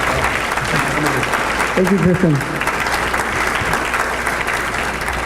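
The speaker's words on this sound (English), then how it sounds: "Let's give them another round of applause." An audience at a legislative breakfast in Aptos, California gives a sustained round of applause, dense steady clapping throughout, with a brief spoken thanks heard over it.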